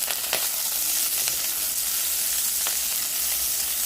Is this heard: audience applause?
no